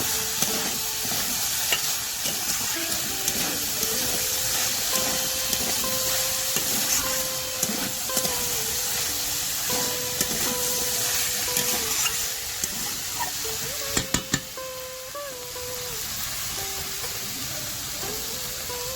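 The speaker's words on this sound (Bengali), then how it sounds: "এবার আমরা দিয়ে দেব পরিমাণ মতো হলুদ। দিয়ে ভালো করে নেড়ে নেব।" Banana flower with turmeric stirred in a pan on the stove, a steady hiss of frying under repeated scraping strokes of the spoon, with a few sharper knocks near the end; no voices.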